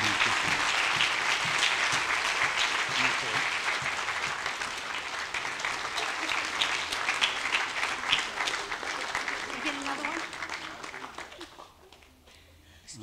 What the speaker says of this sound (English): Can we just stand and give Dr. Ron a praise clap and welcome him to the podium